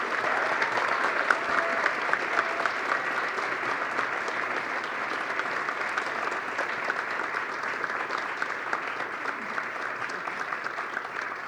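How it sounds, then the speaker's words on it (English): Sustained applause from an audience at a Phi Theta Kappa induction ceremony welcoming new members, dense even clapping from many hands continuing throughout. "Please give them a wonderful round of applause."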